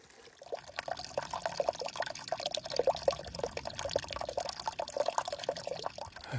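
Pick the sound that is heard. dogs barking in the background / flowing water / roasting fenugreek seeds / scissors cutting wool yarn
flowing water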